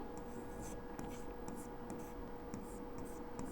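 Pen writing on paper during a class 10 probability lesson, with soft scratchy strokes in short bursts, quiet and close over a faint background hum.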